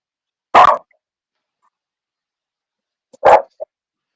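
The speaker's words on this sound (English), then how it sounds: "It's a smaller dog," Two sharp, short barks from a small dog, a few seconds apart, with a tiny yip after the second; otherwise silent.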